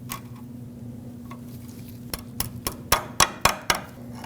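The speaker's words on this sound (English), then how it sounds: "so I'm going to put my cotter pin through. And of course we'll bend it over to lock it in." Sharp metallic taps ring out as a cotter pin is bent over on a Ford Ranger tie rod, a quickening series of about seven close clicks over a steady low hum.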